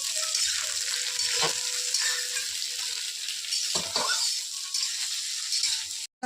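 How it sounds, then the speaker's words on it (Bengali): Cauliflower pieces fry in oil in a pan, giving a steady bright sizzle with occasional stirring knocks and faint rattles, close by and without speech. "আর এই যে এদিকে ফুলকপি ভাজা হচ্ছে।"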